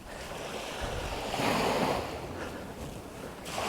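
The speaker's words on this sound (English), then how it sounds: "the tide is coming in here on" Incoming tide washing onto a beach in Galway Bay, a steady broadband surf roar that swells around the middle and again at the end, with wind buffeting the microphone throughout and no voices.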